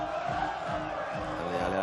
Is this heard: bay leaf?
no